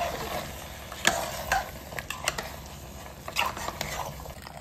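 Yogurt being stirred into sizzling mutton masala for a biryani-style curry, a spoon scraping the pan in irregular strokes over a steady frying hiss, fairly close and moderately quiet, with no talk.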